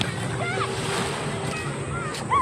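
Ocean waves wash on a clean sea beach, a steady breezy surf hiss with some wind buffeting on the microphone and a person speaking over it.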